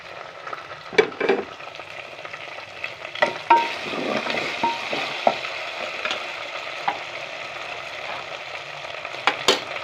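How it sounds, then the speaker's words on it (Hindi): Cornflour slurry stirred into chicken stock for noodles, a wet sizzling bubble with repeated spoon clinks and scrapes against the pot, close and with no talk. "देखिए मैंने कॉर्नफ्लोर यखनी के अंदर मिक्स कर लिया, इसको ऐड करती हूँ मैं यखनी के अंदर"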